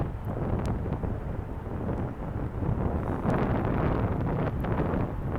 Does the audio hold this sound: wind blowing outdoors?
yes